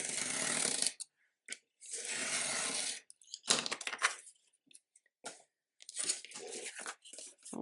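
Cutting a piece of material for a desk note pad holder, with bursts of close, rasping, tearing strokes broken by short pauses and a few sharp cracks, and no talking.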